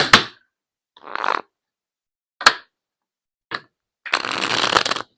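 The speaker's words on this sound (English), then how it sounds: "Astro Oracle. I'm going to pull 3 cards." Oracle cards being shuffled in several separate bursts: short riffles and flicks, then a longer continuous shuffle at the end, close and clear with no talking.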